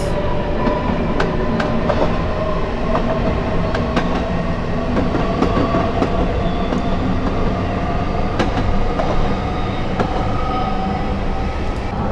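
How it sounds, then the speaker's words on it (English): A JT S8 Underground Stock train departs in Train Simulator 2019, a loud continuous rolling rumble with steady motor whine and rhythmic clicks from wheels over rail joints. "And this train is ready to depart"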